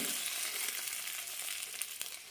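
Urad dal and curry leaves frying in oil for a coriander and coconut chutney, making a faint, steady hissing sizzle with a light crackle near the end, heard alone.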